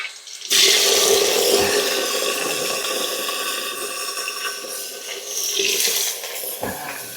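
Water pours steadily and loudly for several seconds at a secluded forest ashram, a continuous splashing rush that eases slightly midway and swells again near the end.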